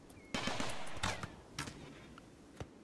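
Turret gunfire in the RimWorld video game: several sharp bursts of rapid shots, a long volley followed by shorter ones and a final single crack, loud and dry with no talking over them.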